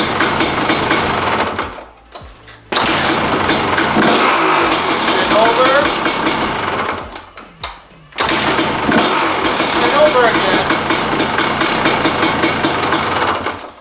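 A motorcycle engine catches on a kick start and runs at a loud, steady idle with a brief drop in between, then fires up again. Someone talks over the engine noise.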